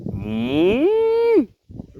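A cow lets out one loud, close moo that rises and holds before cutting off, followed by a moment of quiet and faint rustling, heard near a crocodile-zone hunting area in St. Thomas, Jamaica.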